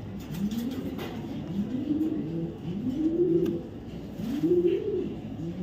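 A top-quality red checker male racing pigeon, a 2023 BRPFC bird, coos in four or five repeated, rising low phrases close by, with faint vehicle noise in the background.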